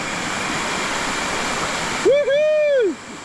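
Steady broadband rush of a waterfall in Australia fills the scene, with a person's excited voice breaking in near the end.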